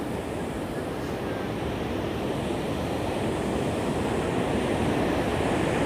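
Ocean waves wash ashore on the Nicoya coast of Costa Rica, a steady, loud rush of surf and spray with wind buffeting the microphone, no speech.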